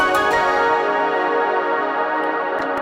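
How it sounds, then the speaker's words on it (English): A short Asian-flavoured synth melody of four or five notes, built in Ableton and inspired by Japanese music, rings out sustained and bright with layered tones, alone without talk. "Asian sounding melody that I sprinkled throughout."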